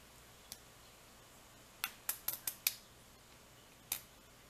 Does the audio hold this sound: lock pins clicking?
yes